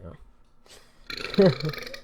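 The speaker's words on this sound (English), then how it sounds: "Oh, that was a good burp, boys." A single short burp from a podcast host during a gaming podcast about Black Ops 6, close to the mic, followed by a voiced tail.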